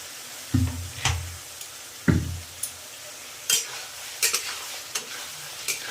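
Potato poppy seed curry in a pan with raw mustard oil poured over it: low sizzling under scattered stirring knocks and scrapes, close and fairly loud, with no voices.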